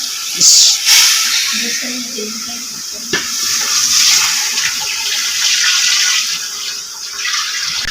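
A thick mixture of yogurt, gram flour and water pours with a soft, continuous hissing splash, steady and close, with brief clinks and shuffling at the start.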